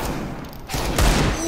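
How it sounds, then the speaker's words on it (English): Gunfire from Counter-Strike, shot through a floor toward the B site, heard as dense, loud bursts of shots and heavy thuds in a short close-range flurry with no talk over it. "He's shooting through the floor to B."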